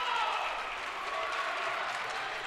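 The Ocean CC Vikings bench applauds during a college basketball playoff game against Brookdale CC, a steady wash of clapping and crowd noise in an indoor gym with no pauses.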